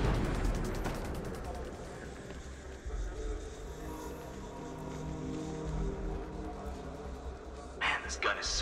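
Gunfire and heavy blasts in Batman: Arkham Knight, with strong reports at the start, a low rumbling stretch, then another burst near the end, partly under voices.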